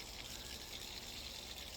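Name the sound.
water filling a swimming pool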